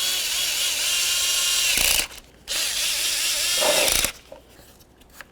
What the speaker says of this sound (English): Start in both of your bolts before you snug either of them up.